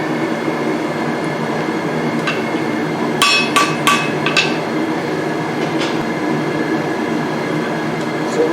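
A blacksmith forging tongs strikes hot metal on an anvil, a quick cluster of sharp ringing hammer blows and a few lighter taps, loud and close over a steady forge roar.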